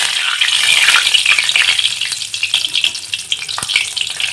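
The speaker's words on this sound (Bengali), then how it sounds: "আমার তেলটা খুব সুন্দর গরম হয়ে গিয়েছে এর মধ্যে ফোড়নে আমি একটা শুকনো লঙ্কা দিলাম একটা দালচিনি আর তিনটে ছোট এলাচ" Dried red chili, a cinnamon stick, three small cardamom pods and bay leaves spluttering in hot oil as a tempering for masala chicken, a loud, close crackling sizzle that settles into sparser pops and spits.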